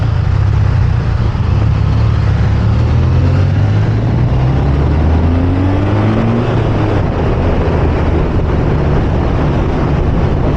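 A BMW R12 motorcycle engine running under way, a steady loud drone with rising and falling low tones as revs shift, heavily mixed with wind rush across the whole stretch.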